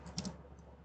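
A few quick keystrokes on a computer keyboard, close and fairly soft, while an IPv6 setting is being entered on a networking device; brief clicks cluster early, then a low hum.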